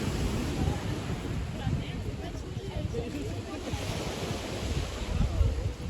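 Sea waves wash on a European beach in a steady roar of surf mixed with wind buffeting the microphone.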